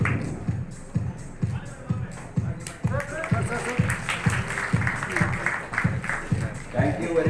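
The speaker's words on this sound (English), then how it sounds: "A big round of applause for him." Audience applause for a man called to the stage at a medical society launch event, sustained clapping and crowd shuffle under a speaker's voice throughout.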